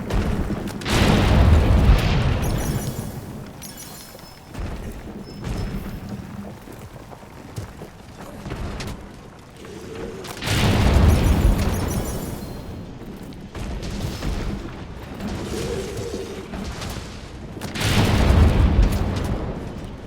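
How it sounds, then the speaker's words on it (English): Sticky ammo detonations in Monster Hunter World: deep, heavy booms in three main loud bursts spaced several seconds apart, with smaller thuds and rumbles between them. "Why are you guys shooting stickies at her head?"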